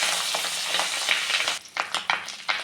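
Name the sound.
fish roe frying in oil, being flipped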